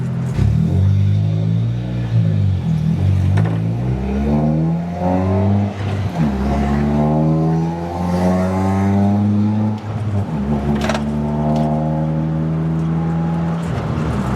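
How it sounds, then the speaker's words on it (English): A second-generation Mitsubishi Eclipse with a badly worn exhaust revs repeatedly, its raspy engine note rising and falling in several close, loud sweeps, with a short break between pulls. "We need a new exhaust desperately."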